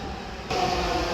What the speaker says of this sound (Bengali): 2 মিনিট দাঁড়ানোর পরই ট্রেনটি আমাদের নিকট চলে আসলো।